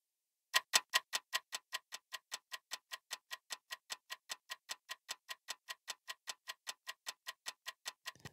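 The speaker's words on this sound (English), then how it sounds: "The ticking sound effects are contained in single instrument containers" Bomb timer ticking from a game sound event: about thirty sharp, evenly spaced ticks at a steady rhythm, loudest at the start and then holding level, clean and isolated with nothing else around them.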